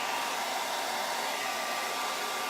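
A hair dryer blows steadily on a freshly primed painted craft piece, a porch hanger attachment, giving an even, close, unbroken whoosh with no talk.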